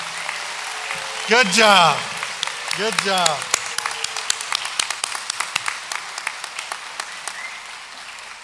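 Scattered, sparse clapping from a graduation audience welcoming welding, truck and automotive technology graduates at NWTI; a voice speaks briefly first, then individual claps ring out unevenly and fairly close.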